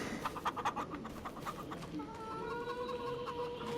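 Chickens cluck in short, uneven bursts over a steady farmyard ambience in the Farming Simulator 25 video game, with a few louder clucks near the start and softer, drawn-out calls later.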